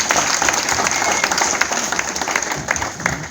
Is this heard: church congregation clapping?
yes